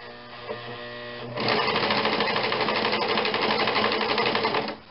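A sewing machine runs at low speed stitching a nun's veil, starting after a quiet moment with small clicks and then humming in a steady, even whir of rapid needle strokes that holds for several seconds before stopping.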